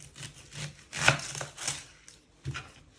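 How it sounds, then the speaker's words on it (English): A knife chops the ends off an onion on a cutting board: a few separate knocks and cuts spaced out over a few seconds, close and fairly quiet with no talking. "First step is to chop your ends off your onion."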